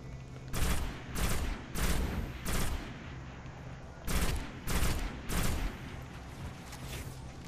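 Bursts of gunfire from the Destiny video game, arriving in repeated rapid volleys with short gaps between them, loud and close, with no talking.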